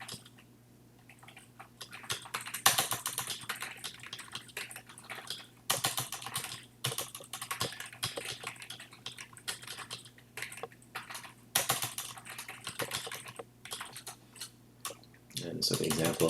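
Typing on a computer keyboard while writing a note, with quick bursts of clicking keystrokes running throughout and a person talking over them.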